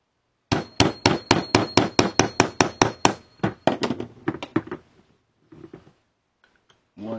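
A tail hook adapter is tapped into position with a hammer: a fast, even run of about fifteen sharp metallic clangs, then several lighter irregular taps, a pause and a final knock, close and loud.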